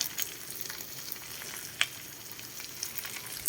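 Small dried anchovies (dilis) frying in oil in a pan while being stirred, a steady close sizzle with occasional scraping clicks from the utensil.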